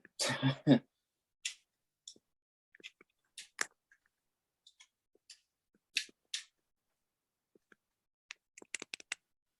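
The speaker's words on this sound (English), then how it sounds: "You can hear the typing." Sparse, irregular keyboard clicks tapped quietly at close range, with a short burst of voice at the very start.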